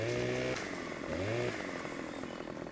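A chainsaw runs steadily in the logging game Farming Simulator 15, its engine note rising and falling as it revs, loud and continuous with no talking.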